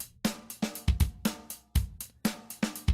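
A drum loop in BandLab, with punchy kicks and bright snare or hat hits repeating in a steady programmed pattern, played loud and close with no other instruments or voices.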